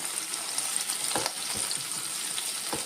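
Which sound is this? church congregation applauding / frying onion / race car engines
frying onion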